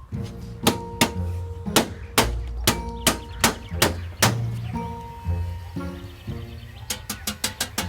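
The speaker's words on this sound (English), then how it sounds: "just using this dolly and the hammer, both nice flat polished surfaces, I'm just smoothing out those dents" A hammer strikes metal against a dolly in repeated sharp, ringing taps, sometimes spaced out and sometimes in quick bursts, close and fairly loud.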